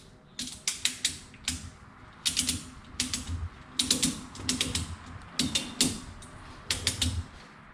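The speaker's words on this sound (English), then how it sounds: "So we're just gonna get some slack in our ratchet system." Ratchet strap on a 4x4 harness bar being cranked, giving bursts of sharp, close mechanical clicks grouped in quick runs with short pauses between them, alone without talk.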